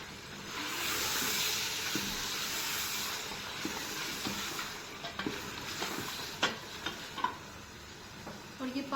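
Beef keema and potatoes fry in a pan with a steady, close sizzle and hiss, broken in the second half by sharp scrapes and clicks of stirring.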